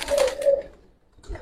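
A Giribaz pigeon gives one short, close coo with a throaty, wavering tone that fades away in under a second, followed by near silence and a faint rustle.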